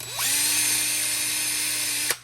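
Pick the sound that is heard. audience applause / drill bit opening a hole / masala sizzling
drill bit opening a hole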